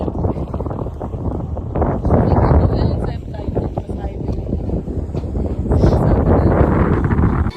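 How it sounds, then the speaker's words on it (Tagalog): Strong wind buffets the microphone in a continuous low roar that swells and eases without letup. "Puro hangin lang may naririnig."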